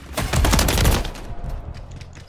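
Rapid bursts of automatic gunfire from a weapon in Call of Duty: Modern Warfare 3, loud and close, peaking in the first second before tapering into scattered shots.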